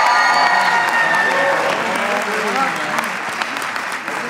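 An audience at a Faith International University graduation ceremony claps for graduate Ty Belknap, steady loud applause filling the hall and slowly tapering off.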